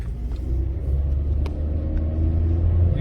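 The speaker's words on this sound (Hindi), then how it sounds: "गाड़ी जा तो रही है, इसके ऊपर रेस आप देख रहे हैं जा रही है लेकिन गाड़ी की रेस ज़्यादा हो रही है" Nissan Altima engine droning and revving high while driving on a road with a P1777/P1778 transmission fault, a steady low rumble from inside the car with faint light clicks.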